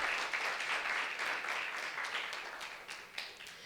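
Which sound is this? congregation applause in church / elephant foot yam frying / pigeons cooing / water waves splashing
congregation applause in church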